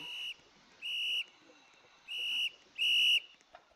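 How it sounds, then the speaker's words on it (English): A shrill whistle blows four times in short, even blasts on a sinking ship in Roblox, the last slightly longer and louder, over a quiet background. "Who's blowing the whistle?"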